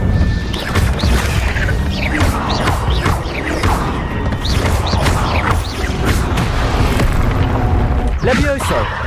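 Spell-casting blasts from the Incendio fire spell in Hogwarts Legacy, a series of loud crashing, booming bursts packed densely over a busy game mix with continuous chirps and creature sounds, with a voice speaking in the middle of it.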